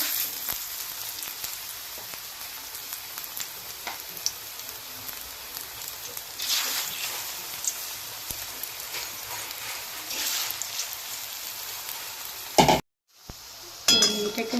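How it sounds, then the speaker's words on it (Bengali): Drumstick flower fritters sizzle steadily in hot oil over a low gas flame, a dense close crackle and spatter running throughout, with a brief cut to silence near the end before the frying resumes. "এইভাবে আমি সবগুলোই ভেজে নেব"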